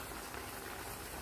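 Squid adobo simmering in a pan after potato is added, a steady soft bubbling and sizzling hiss that carries evenly throughout with no talk over it.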